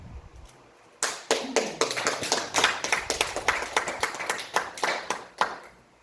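A small gathering claps at a religious lecture, with distinct, fairly close hand claps in an uneven but continuous rhythm that start suddenly after a quiet moment and keep going.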